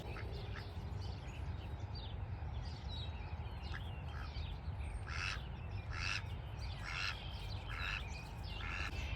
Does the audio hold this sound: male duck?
yes